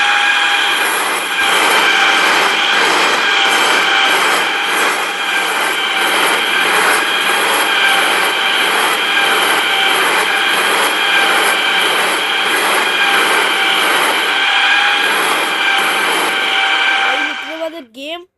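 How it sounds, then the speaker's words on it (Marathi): A local train in the RGTTD train video game rolls past, a loud, continuous rumbling roar with steady rhythmic clatter and a sustained tonal whine. It lasts about eighteen seconds, then cuts off abruptly with a short warbling glitch. "पण लोकल ट्रेनची आवाज येणार. थांबा आता लोकल ट्रेन येणार आहे बघा."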